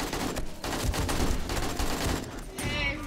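Rapid video game gunfire rattles out in a steady, close burst of repeated shots that fills the whole moment, with a voice faintly underneath.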